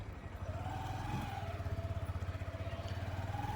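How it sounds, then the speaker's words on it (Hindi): A Honda SP125 motorcycle engine runs at a steady cruise of about 65 to 70 km/h. It gives a low, evenly pulsing throb that stays fairly muted and constant throughout. "तो पहले मैं इस बाइक को 65 to 70 kilometre per hour speed पे क्रूज़ करूँगा।"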